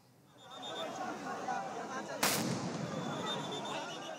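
A sound grenade explodes at a street protest as a single sharp, loud blast that rings out over a crowd's steady murmur and shouting.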